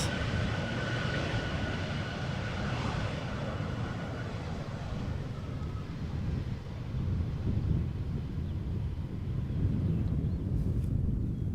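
A German Airways Embraer 190 airliner landing at Schiphol rumbles with a steady, loud, broadband jet roar and wind noise, unbroken across the whole stretch, with no speech over it.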